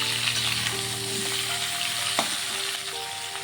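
Raw banana and potato pieces sizzle in hot oil as they are stirred in a pan, a continuous close frying hiss with a couple of soft spatula scrapes.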